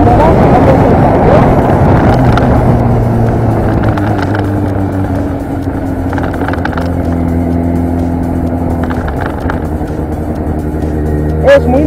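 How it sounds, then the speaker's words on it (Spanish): A motorcycle engine pulls away as the clutch is eased out and the throttle opened. The engine drone rises and shifts pitch in steps over steady wind noise, with a voice talking over it. "soltando embrague poco a poco y dando un poco de gas"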